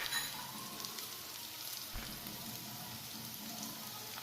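Peeled prawns frying in a pan, a steady soft sizzle with crackling spatter filling the whole stretch at low level, no voices.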